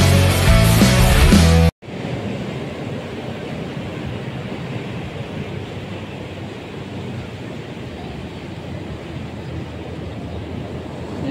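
Rough, angry ocean waves break along the Casiguran shore in a continuous loud wash of surf with wind noise, following a brief burst of music at the start.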